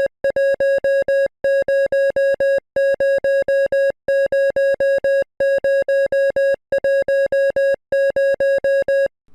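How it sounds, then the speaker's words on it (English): Morse code beeps from a sound file in a Roblox puzzle game: a clean steady electronic tone pulsing in regular groups of short beeps, separated by brief pauses, loud and alone. "It's Morse code and it translates to a bunch of ones and zeros"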